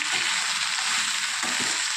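Cluster beans being stirred into a hot Andhra-style tempering in a pan, giving a steady close sizzle with scraping stir strokes and no talking.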